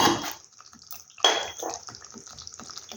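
Water splashes into a bowl of spices during cooking: a brief rushing pour, then light clinks of the bowl, another short gush, and scattered small drips and taps.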